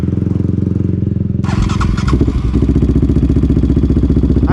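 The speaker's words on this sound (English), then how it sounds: "I do notice some valve chatter though now that we loosen them up to max." A Yamaha Raptor 700R ATV engine runs steadily and loud at close range, its valves loosened to maximum clearance giving a rapid mechanical ticking chatter over a deep, throbbing idle that picks up slightly partway through.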